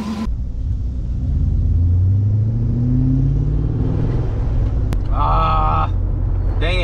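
A BMW E39 M5 wagon pulls away from a driveway, its engine rumbling loud and close and rising in pitch as it revs up, then settling, with a brief electronic chime toward the end.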